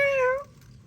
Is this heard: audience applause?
no